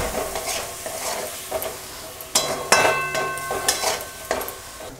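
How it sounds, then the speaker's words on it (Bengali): Shrimp fry lightly in a pan for mixed fried rice, a soft sizzle under a run of sharp metallic scrapes and clinks as a utensil stirs against the pan. "দিয়ে চিংড়ি মাছটাও এরকম হালকা করে একটু ভেজে নিতে হবে।"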